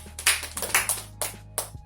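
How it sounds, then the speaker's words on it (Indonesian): Fourth-grade pupils give a classmate a short round of hand claps, a few scattered sharp claps in quick bursts, fairly faint over a low steady hum. "Tepuk tangan buat Bakas."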